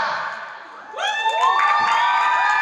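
Crowd at a Chicago fan convention panel cheers loudly, with high whoops and shouts rising over a steady roar after a brief quieter start; sustained and close, fairly loud throughout.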